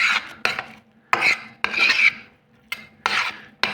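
Rice being mixed with rice vinegar, salt and sugar: a run of brisk rasping, scraping strokes, about seven of them in an uneven rhythm, close and clear with short pauses between.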